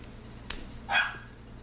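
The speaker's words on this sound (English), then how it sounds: "That would be my dog in the background who's throwing a hissy fit" A single sharp dog bark rings out once, off in the background at a distance, fairly faint against quiet room noise.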